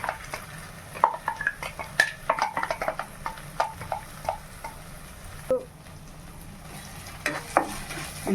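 Ground paste added to browned onions and stirred in a pan for a mushroom curry: soft sizzling under irregular scraping and clinks of a spoon against the metal pan, close and moderately quiet, with no talk.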